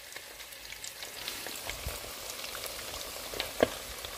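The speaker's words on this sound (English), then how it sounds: "This is our beef, neatly frying" Beef frying in a pan for a Nigerian beef stew, a steady soft sizzle with scattered crackles and one sharper pop, no talking.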